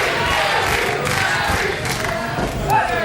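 A wrestling crowd cheering and yelling, a dense roaring mass of voices that stays loud and steady throughout with a slight swell near the end.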